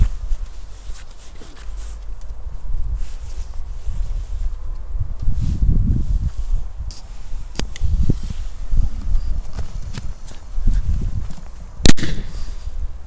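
Firecrackers from a Lidl Pyroco Mixer fireworks set go off outdoors, several sharp cracks and bangs scattered unevenly over steady background rustle, one especially loud crack near the end, with no talking.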